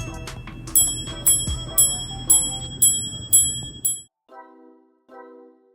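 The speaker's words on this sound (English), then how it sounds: "The slide placed into the left side of the case is activated by the caliber R27 to produce on-demand chimes." A Richard Mille caliber R27 watch chiming on demand: seven bright, evenly spaced metallic dings ring out in a steady sequence, followed after a brief silence by two softer, lower tones, with faint background noise beneath.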